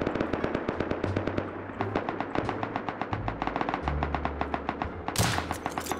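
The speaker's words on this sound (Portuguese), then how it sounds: "Os caras estão metendo bala lá." Gunfire in the survival video game Rust, rapid bursts of automatic shots cracking in quick, uneven rhythm at moderate distance, with a louder flurry near the end.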